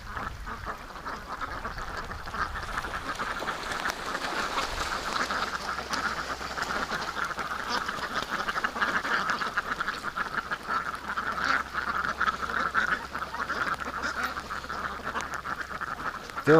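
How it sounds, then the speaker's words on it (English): A flock of ducks quacking amid steady rain, a dense, continuous chorus of overlapping calls at moderate distance under the wash of rainfall. "There are so many pretty ducks"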